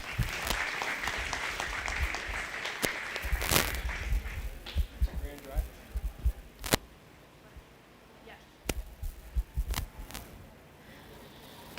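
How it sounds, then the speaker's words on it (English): An audience at a 4-H and FFA goat show claps in a full round of applause that swells, then thins into scattered individual claps and fades toward quiet. "let's go ahead and give her a nice round of applause."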